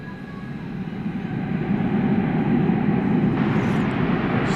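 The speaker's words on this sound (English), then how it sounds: "So now we get American 1207 to Tucson. Airbus A321." An American Airlines Airbus A321 takes off from runway 18L at DFW Airport at night, a steady, broad jet roar that builds in strength and holds loud throughout.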